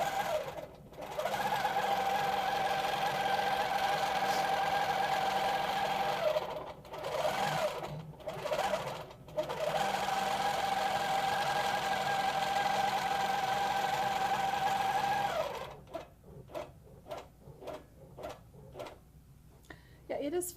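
Longarm quilting machine stitching a crosshatch pattern, a steady whirring hum running for long stretches with brief pauses, then ending in a series of short choppy bursts.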